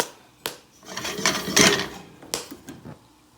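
Popcorn popping in a covered pot on the stove, with a few sharp pops and a busier rattling cluster of kernels in the middle, heard close and moderately loud.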